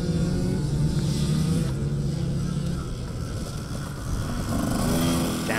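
A racing motorcycle engine revs and pulls hard through a bend on a race circuit, a steady loud mechanical drone that rises and falls in pitch, with no talking.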